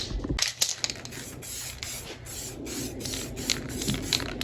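Spray paint hisses onto the bare alloy edges of an Audi TT wheel during a refurb, in short close bursts with brief pauses and no voices.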